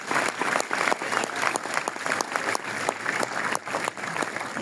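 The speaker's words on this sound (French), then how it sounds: "Ouais, on peut l'applaudir." A live audience at a documentary screening event bursts into steady, dense applause that fills the room, loud and continuous without a break.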